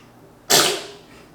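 A baby sneezes once, a sudden sharp burst that fades quickly in a quiet room, close and alone.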